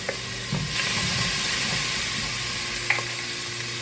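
Oil sizzling in a pan as garlic powder is added for a shelf-stable pantry meal, a steady close frying hiss with a couple of brief clinks and stirring scrapes.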